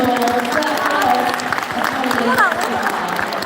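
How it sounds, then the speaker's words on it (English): Spectators at a sea lion show applaud Arthur the sea lion, with a dense, steady round of clapping mixed with crowd chatter and a nearby voice. "We'll give Arthur a round of applause."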